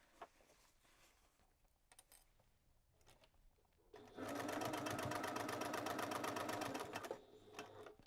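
A sewing machine runs in one fast, steady burst of stitching for about three seconds across the end of a lined vinyl zipper pouch, close and loud after a quiet stretch of handling noise.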